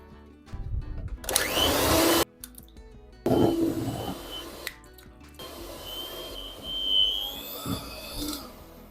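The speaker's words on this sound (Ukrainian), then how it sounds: "Тепер буду вбивати по одному яйцю і збивати міксером до однорідної маси" An electric hand mixer beats eggs one at a time into cooled choux dough for churros, running in loud whirring bursts with brief pauses in between, the motor pitch shifting as the beaters work through the thick batter.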